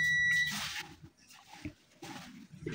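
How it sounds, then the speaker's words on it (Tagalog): Several short electronic beeps from a multimeter in continuity buzzer mode with its probes shorted, a steady tone at the start followed by bursts of buzzy noise and clicks. "pinag-short ko yung ating tester. Beeping, nagbibip."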